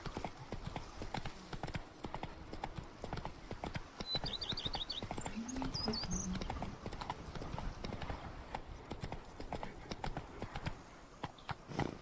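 Horse hooves clip-clop steadily on the ground in The Witcher 3: Wild Hunt, a continuous even rhythm of close, fairly loud hoof strikes with a brief whinny partway through.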